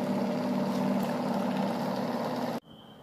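A homemade BLDC motor spins on a 3-phase controller with a steady, loud whirring hum that runs evenly, then cuts off abruptly near the end, leaving a faint high whine.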